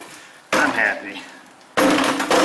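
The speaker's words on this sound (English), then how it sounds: "little DeWalt drop test just happened" DeWalt power tool dropped during a Subaru ball joint replacement, two sharp clattering impacts separated by about a second, close and loud, with faint speech between them.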